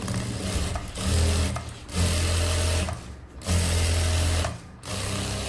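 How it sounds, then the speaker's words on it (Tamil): A sewing machine stitches a shirt in four loud, steady runs of rapid whirring, each separated by short pauses. "மேலே தையல் போட்டுக்கலாம்."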